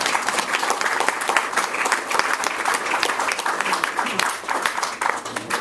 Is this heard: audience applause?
yes